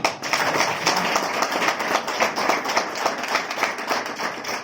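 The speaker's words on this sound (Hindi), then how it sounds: "एक बार जोरदार ताली" Audience clapping at a motivational seminar for Vestige, a dense burst of many hands striking together, steady and fairly loud for several seconds with slight rises and dips.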